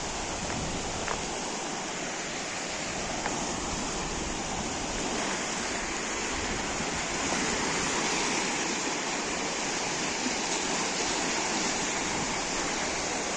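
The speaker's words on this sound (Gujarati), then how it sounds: "આ હિમાલયની પર્વતમાળામાંથી આ નદીનું સરસ એવું ત્યાંથી વહી રહી છે" The Ganga river rushing past the ghat at Haridwar, a dense, steady roar of flowing water that stays loud and even throughout, with no voices.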